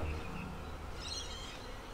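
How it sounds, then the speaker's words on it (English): Honey bees at an open hive during a honey harvest and hive check give a steady, close buzzing hum that holds throughout. "And these bees are starting to get a little bit aggro."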